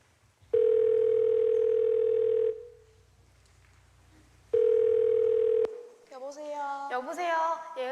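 A telephone dial tone sounds in two long steady bursts with a gap between them during a call, followed by a short burst of other tones at the end.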